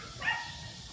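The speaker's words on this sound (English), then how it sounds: "the dogs are barking in the background" Dogs bark in the background, one faint, brief yelp rising over a quiet room hum during a Canine Good Citizen test for a 14-week-old English Golden Retriever puppy.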